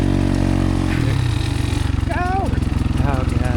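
A KTM 300 XCW two-stroke dirt bike engine at a hare scramble race, loud and close, revving up and holding a steady buzzing drone without any pause.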